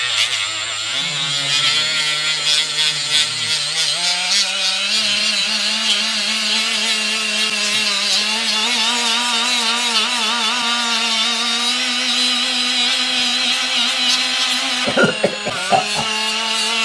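A cordless Milwaukee Fuel power tool fitted with pads runs steadily and loudly for most of the stretch, its motor whine shifting slightly in pitch, while prep work happens around an old machine tool before it cuts off near the end.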